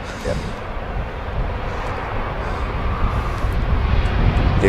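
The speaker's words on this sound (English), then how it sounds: "Virgin just taxiing off there" A Virgin airliner taxiing at Manchester Airport makes a steady, broad jet rumble that swells slightly louder toward the end, with no other sounds standing out.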